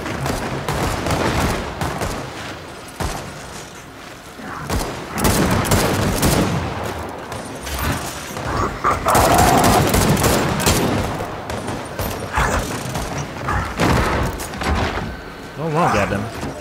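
Gunfire in Gears of War 4 online multiplayer, with repeated rapid bursts and shots through a noisy battle while players talk excitedly over the action.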